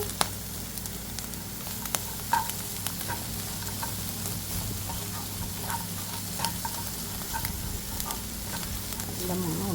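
Grated coconut, egg and jaggery sauté in a pan, giving a steady hiss with scattered sharp crackles and occasional spoon clinks against the pan.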